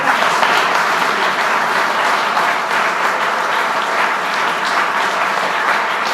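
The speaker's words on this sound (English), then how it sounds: "If I could have a big round of applause for Ron and Sally and GHF." A large crowd at a dedication ceremony gives a big, sustained round of applause for Ron, Sally and GHF, loud and dense clapping that holds steady for over six seconds without talk.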